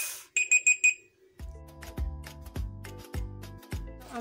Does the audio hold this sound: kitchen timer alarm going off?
yes